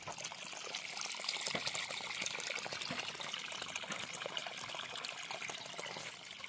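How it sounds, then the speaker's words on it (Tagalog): Water leaking and flowing out of an irrigation hose outdoors, a steady faint trickling and splashing with no voices. "Papakita ko sa inyo kung gaano karami yung tubig na tumatagas sa kanya or lumalabas sa kanya."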